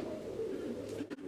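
Fancy pigeons, including fantails and Komorner tumblers, cooing softly in a loft, a low murmuring coo continuing quietly before a brief rustle near the end.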